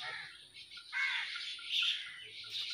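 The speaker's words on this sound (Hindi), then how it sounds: "चिड़ियों की आवाज़ें" Soft chirps and tweets from birds, faint and somewhat distant, in a quiet outdoor setting near a large banyan tree in Pakistan, with no talking.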